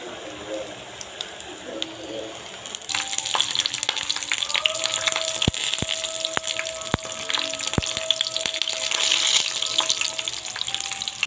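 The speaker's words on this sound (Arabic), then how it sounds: "وبعد كده نحمر البتنجان" Eggplant frying in hot oil for a meatless Egyptian moussaka gives a steady sizzle and crackle that swells after the first few seconds, with sharp clinks of a utensil against the pan and a faint voice in the background.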